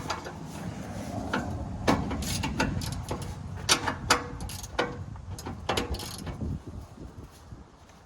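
Fasteners come loose from the step of a cabover truck under restoration, giving a run of sharp metallic clicks, ratcheting and clanks at an irregular rhythm, close by and without talk.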